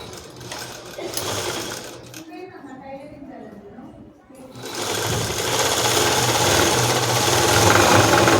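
A sewing machine stitches the side seams of a school dress with a rapid mechanical chatter, pausing briefly in the middle before starting again louder and running steadily to the end.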